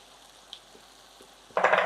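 Milk poured into a pan of frying chicken masala for creamy malai chicken sets off a sudden loud sizzle after a quiet moment, close up and continuing to the end.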